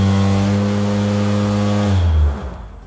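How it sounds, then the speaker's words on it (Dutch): The automatic filter shaker of an RCM Atom.3 industrial sweeper gives a loud, close, steady humming motor drone that winds down and stops after about two seconds, leaving a faint rattle. "Dat is een automatische filterschudder. Die schudt de filters als je klaar bent met vegen."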